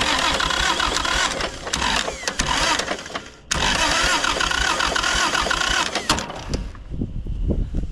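A 1951 Cletrac Oliver crawler dozer engine cranks on its starter with a loud, continuous grinding churn. It breaks off briefly partway through, resumes, then eases toward the end. No voices.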